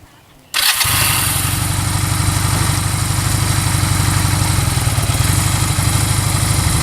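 A learner's motorcycle engine catches after a short quiet moment and settles straight into a loud, steady, close-up idle with an even rapid chugging pulse.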